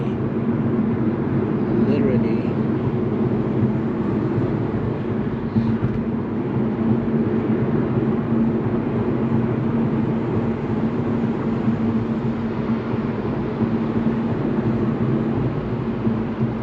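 Constant low road and wind roar fills the cabin of an Infiniti Q50 Red Sport 400 cruising on a busy highway with windows up, a dense steady drone that never lets up.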